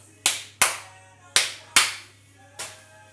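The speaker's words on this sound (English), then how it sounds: "Also, another sink clap." Five sharp hand claps inside a kitchen sink, each with a short metallic ring and quick decay, spaced irregularly over a low steady hum.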